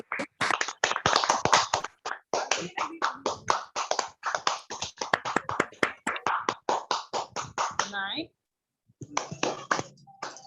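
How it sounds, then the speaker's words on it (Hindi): Audience clapping at a Jain religious seminar hall, a burst of scattered, uneven handclaps lasting several seconds that breaks off briefly near the end before resuming. "इनका तालियों के द्वारा बहुत बहुत आभार व्यक्त करें"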